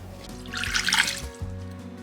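Water poured into a pot for a vegan Japanese soup stock, a short close splashing trickle that swells and fades over a low kitchen hum.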